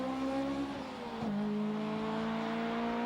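Honda S2000 race cars roar off the line at the start of a three-lap track battle, engines revving hard with shifting pitch and a brief dip as gears change, loud and close.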